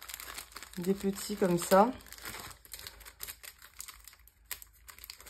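A plastic packet of small A8 envelopes crinkles and rustles as it is opened, quiet crackling after someone speaks briefly, continuing alone in soft irregular crinkles.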